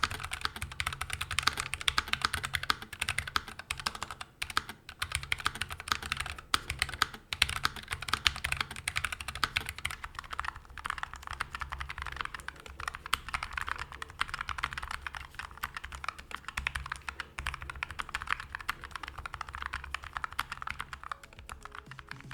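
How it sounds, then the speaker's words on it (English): Steady typing on a NuPhy Air60 keyboard with Gateron low profile brown switches, modded with added foam and tape, giving a continuous, soft, even patter of keystrokes heard alone. "here's how the board sounds all stuck with the Gateron low profile browns, unlooped and then looped with the added foam and tape"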